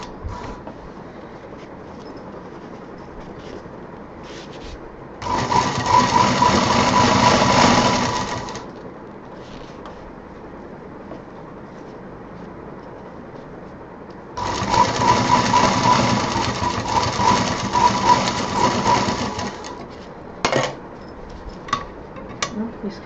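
A sewing machine stitching a fabric sling bag in two separate runs of rapid, steady mechanical whirring, close and loud, with quieter handling and talk between them.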